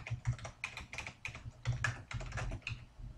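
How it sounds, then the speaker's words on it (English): Typing on a computer keyboard, a rapid irregular run of close, soft key clicks in quick bursts with no talking. "Man, nerve-wracking typing when you're making a video."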